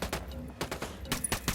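Squad gunfire in the tactical shooter Ghost Recon Wildlands, a quick run of sharp, closely spaced shots volleying in an irregular rhythm for a second and a half.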